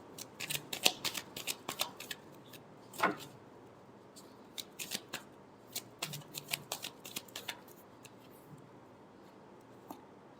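Tarot cards being shuffled by hand, a quiet crisp riffling and flicking in irregular bursts, close up with no talking.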